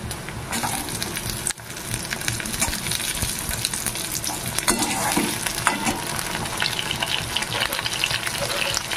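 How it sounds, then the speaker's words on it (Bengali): Tomatoes dropped into onions already frying in a pan for a Bengali shrimp coconut curry bring a loud, steady sizzle with stirring and scraping throughout, without speech. "পেঁয়াজটা বেশ একটু ভাজা হয়ে গেছে, এবার দিয়ে দেবো টমেটোগুলো"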